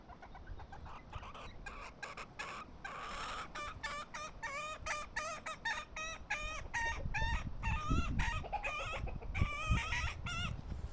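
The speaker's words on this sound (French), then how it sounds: "Eh ben la poule, qu'est-ce qui t'arrive?" Hens cluck and chatter continuously in a barnyard, with repeated short calls and a rooster crowing in the mix, sounding close and busy with no voices.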